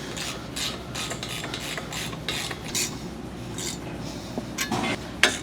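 A 1/2 inch socket wrench ratchets on nerf bar bracket bolts while installing a Ranch Armor side step on a Polaris Ranger 1500, giving a steady close-up clicking and rasping mechanical texture with a sharper click near the end.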